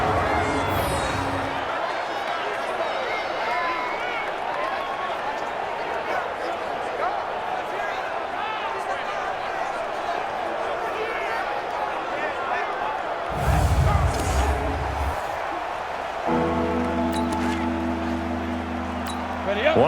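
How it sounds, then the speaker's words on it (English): A stadium crowd in the Madden NFL 20 football video game, Eagles at Jaguars preseason, keeps up a steady roar and cheer throughout under broadcast-style commentary, swelling briefly near the end. "The crowd getting into it as we come up on a big third down."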